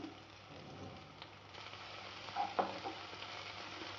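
Onions and curry leaves frying in hot oil for a dried prawn tomato curry, a faint steady sizzle with a couple of brief stirring clinks, quiet and without speech.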